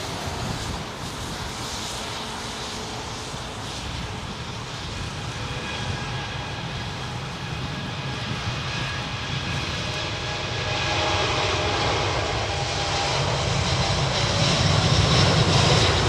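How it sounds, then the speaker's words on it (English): Old Pratt & Whitney aircraft engines running up at Heathrow Airport, a loud, steady roar with sustained droning tones that swells slightly toward the end, heard alone. "You can hear those lovely old Pratt & Whitneys, as if that is what they are."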